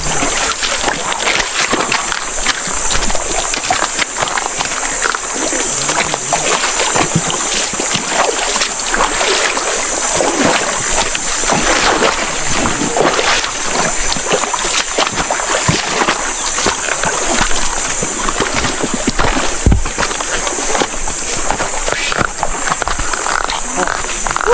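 Rushing river water sloshes and splashes steadily as people wade across slippery stones in a rural stretch near rice paddies, a dense broadband wash that continues unbroken with occasional voices under it.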